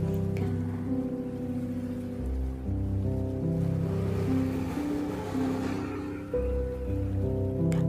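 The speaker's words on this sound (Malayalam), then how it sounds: "അടുത്ത് വരെ വന്നിട്ട് പിന്നെ അങ്ങോട്ട് തിരിച്ചു പോകേണ്ട തിരമാലകൾ" Sea waves wash up a beach close by and draw back, a steady rushing surge of water throughout with no talk over it.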